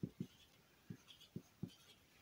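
Handwriting during a maths logic lecture: a few short, distinct pen strokes tap and scratch in an uneven rhythm against a quiet background, with no voice.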